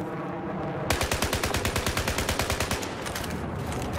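A rapid burst of automatic gunfire from a gun fitted with a laser sight in the Battlefield 4 video game, close and loud, with about two dozen evenly spaced shots firing in a steady rhythm for roughly two seconds, then tapering into a faint echo.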